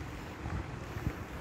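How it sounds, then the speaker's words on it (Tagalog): Wind blows outside at night during a party in Saudi Arabia, a steady gusty rumble buffeting the microphone in short, uneven surges. "Mahangin pa sa labas."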